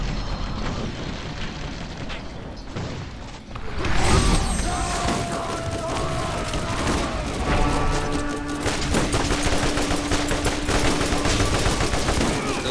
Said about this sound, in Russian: Чисто вот стрельба такая.